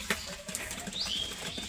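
Pigeons kept in a loft make a quick burst of wing flapping at the start, then soft rustling and faint bird sounds continue at low level.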